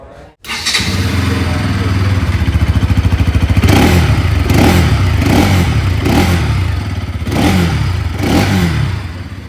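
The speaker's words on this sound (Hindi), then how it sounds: "लेकिन NS 200 का साउंड सुनोगे तो आप बहुत चक्का रह जाओगे" A Bajaj Pulsar NS200 motorcycle engine fires up and idles with a steady, close thump, then revs several times in rhythmic bursts, loud and alone.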